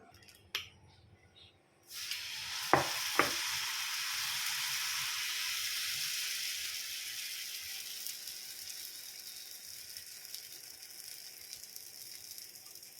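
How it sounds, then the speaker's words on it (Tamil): Dosa batter meets a hot pan with a sudden loud hiss that slowly fades to a faint sizzle, with a couple of sharp clicks near the start. "தோசை மாவு ரெடி ஆயிடுச்சு. தோசை வறுக்கலாம்."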